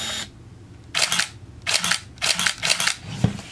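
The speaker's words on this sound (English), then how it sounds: "we can see that the shutter is operating" The shutter of a Nikon N8008s 35mm film SLR camera fires four times in quick succession, each release a sharp, close mechanical snap with a brief whir, spaced under a second apart in a quiet room.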